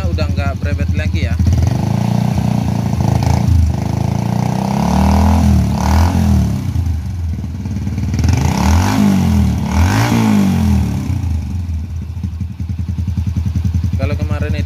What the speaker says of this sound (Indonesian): Oke, motornya sudah hidup normal ya. Bisa teman-teman dengar untuk suaranya udah nggak berebet lagi ya.